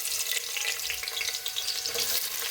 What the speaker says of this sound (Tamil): இதை நம்ம நல்லா ஃப்ரை பண்ணிக்கணும்.